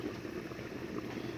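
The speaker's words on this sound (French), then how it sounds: "Vous voyez comment ce pistache est en train de cuire normalement." Egusi (pistache) sauce with dried vegetables simmers in a pot, making a faint, soft bubbling and low murmur that stays constant through the short moment.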